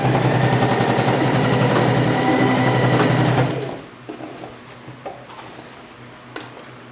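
A sewing machine backstitches at the end of a seam on a school pencil case, running loud and steady with a rapid stitching rhythm for about three and a half seconds, then stopping, leaving a few faint clicks.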